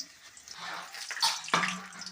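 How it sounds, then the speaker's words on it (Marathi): Chopped pumpkin is rinsed in water poured from a pot while a vegetable dish is cooked over a wood-fired clay stove. Close splashing and pouring build up in uneven surges, with stronger bursts near the middle and a sharp slosh toward the end. "तो आता पाण्यामध्ये धुवून घ्यायचा आहे हंड्यातून पाणी घ्या"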